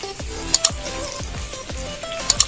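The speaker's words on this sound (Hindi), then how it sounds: "ये ज़रा भून लेंगे फास्ट आंच पे" Maat bhaji greens frying in a pan over a high flame with garlic, giving a steady sizzle broken by repeated stirring scrapes and a few sharp clinks of utensil on pan, close up.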